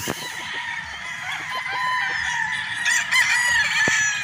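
A white Martin Esquilin gamefowl rooster crows on a game farm in Batangas, its call ringing out amid other birds clucking and crowing nearby.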